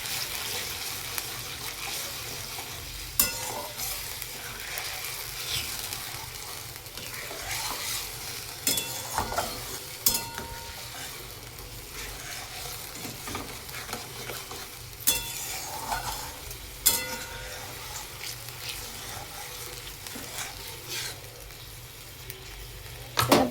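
Spice paste for paneer masala sizzles in a pan under steady stirring, with soft continuous frying hiss and several sharp scraping clicks of the spoon against the pan.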